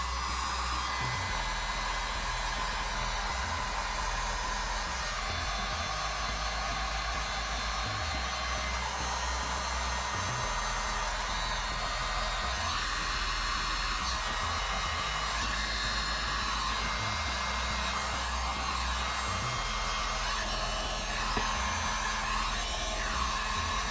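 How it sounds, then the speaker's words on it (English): A heat gun run on low power blows a steady, even airflow roar as heat shrink tubing is shrunk over wiring on a walk-in cold room control box, continuous and close throughout with no talking. "So let me do the heat shrink."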